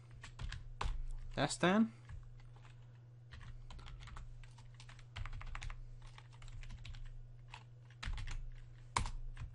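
Code is typed on a computer keyboard in uneven bursts of close clicks, with a brief spoken interjection and a constant low hum underneath.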